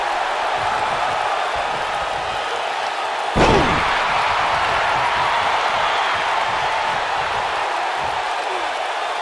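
A wrestler is slammed onto the ring mat during a tag-team match, one sharp heavy impact cutting through the steady roar of an arena crowd, which continues loudly around it.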